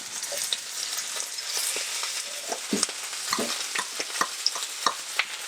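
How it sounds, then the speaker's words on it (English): Turkey wings browning in a medium-high skillet make a steady, close broadband sizzle, with scattered sharp pops and spatters throughout and no voices. "we're gonna brown these wings for about 5 minutes on each side"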